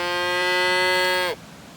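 A cow lets out one long, steady moo lasting over a second, close and loud, then it cuts off, leaving faint background noise.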